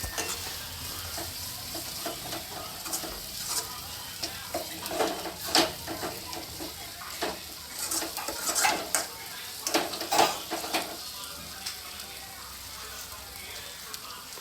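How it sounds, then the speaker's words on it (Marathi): River crabs frying in a pan of masala, sizzling steadily while a utensil stirs and scrapes the pan in repeated close, clattering strokes. "नंतर त्याला मसाल्यामध्ये टाकायचं फ्राय होण्यासाठी"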